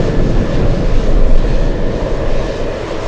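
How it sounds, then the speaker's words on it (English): A Douglas DC-3 taxies at Anchorage airport, a loud, steady, rough engine roar dominated by low rumble with broadband noise and no talk. "we have the DC-3 taxiing on Sierra"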